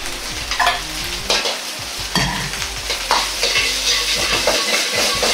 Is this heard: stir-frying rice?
yes